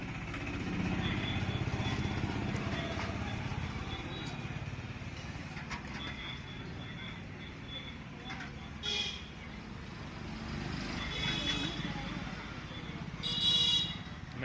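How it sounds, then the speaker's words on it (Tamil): A motor vehicle rumbles slowly through a crowd at a sadhu food-offering gathering in Thiruvannamalai, a steady low engine drone throughout with people talking around it and a brief horn-like burst near the end. "வண்டி போகிறது வழி விட்டுருங்க."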